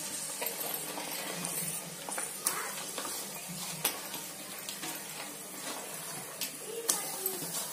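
Onions and curry leaves sizzle steadily in a pan at moderate volume for Chettinad mutton gravy, with occasional clinks and scrapes of a spoon stirring.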